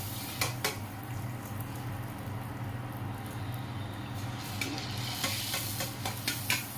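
Puris fry in a pan of hot oil while a hand keeps stirring the oil, giving a continuous sizzle broken by clinks and scrapes of a metal utensil against the vessel.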